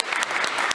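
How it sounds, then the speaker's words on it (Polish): A brief, loud burst of hand clapping from an audience cheers a women's futsal team at a dental graduation ceremony. "także wielkie brawa"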